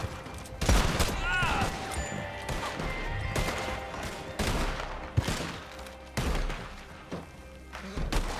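Repeated gunshots go off in a cowboy-themed video game, a series of loud booming shots at irregular intervals over a noisy, busy background.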